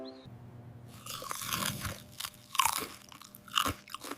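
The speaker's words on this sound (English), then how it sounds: "This apple is very crunchy." Someone bites into a crunchy apple and chews it up close, with sharp crisp crunches that repeat in uneven bursts over a quiet background.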